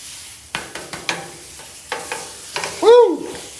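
Butter hits a very hot Monument grill for blackening fish, giving a series of sharp sizzles and stirring scrapes, with a brief higher squeak near the end.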